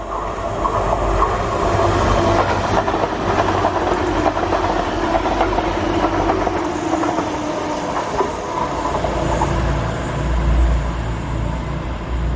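An Adelante passenger train passes close by, a loud continuous rumble with rhythmic clickety-clack of wheels over rail joints that holds throughout.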